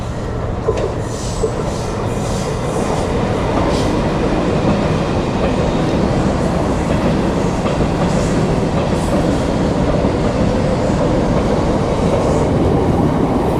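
Trains pass near Mahim station in Mumbai with a loud, constant rumbling roar and faint rhythmic clatter of wheels on track, no voices.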